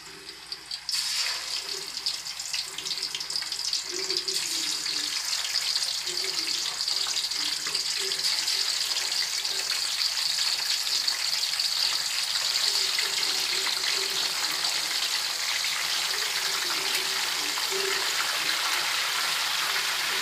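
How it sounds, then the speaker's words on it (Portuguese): Chicken drumettes sizzle steadily in hot oil, a continuous bright crackling hiss that stays loud and even throughout, with no voices over it. "agora eu vou colocar as tulipas para fritar"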